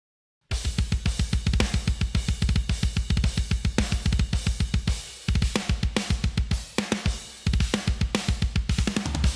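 Programmed drums from Drumforge Sampler or Drumforge Ultimate play a fast, tight pattern of dense, evenly spaced hits, with a few brief breaks and fills, loud and close with no talking.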